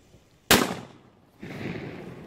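A Dragon Boom firework goes off outdoors with a single loud, sharp bang that trails into an echo, followed by a softer lingering rumble and crackle.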